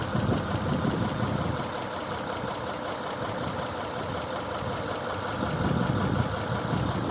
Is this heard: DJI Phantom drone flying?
no